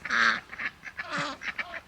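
Ducks at a farm water trough quack and honk in several quick close calls, loud and irregular, with no talk.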